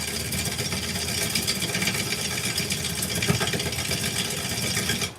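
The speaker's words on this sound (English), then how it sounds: "And that noise you're hearing, because I'm encountering that deep crack on this side." An olive wood bowl spinning on a wood lathe as the tool meets a deep crack, making a steady loud whirring rush with rough, uneven chatter and a sharper knock partway through.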